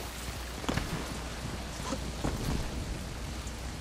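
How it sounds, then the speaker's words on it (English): Steady rain falls in the video game Crysis 2, a continuous hiss of drops with a few louder thuds and splashes mixed in, no talking. "I love the rain, don't you guys?"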